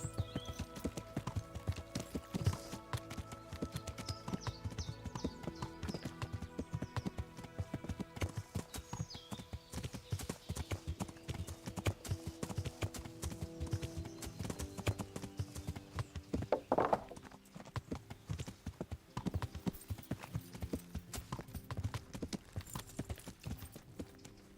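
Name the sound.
horses galloping, hooves clip-clopping, in Kingdom Come: Deliverance video game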